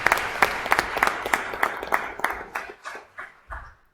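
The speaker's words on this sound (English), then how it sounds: "Let's give her a round of applause." A school board meeting audience gives a round of applause for a middle school student, heard as a sparse, uneven patter of a few distinct claps that thins out and fades toward the end.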